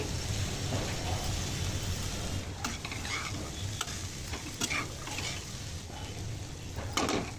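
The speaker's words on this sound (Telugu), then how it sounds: "మీడియం ఫ్లేమ్లో ఒక టూ మినిట్స్ వరకు వేపుకోవాలి" Black-eyed peas with masala sizzle and fry in a pan on a medium flame, a steady close crackle broken by repeated scraping stirs of a spatula; no talk.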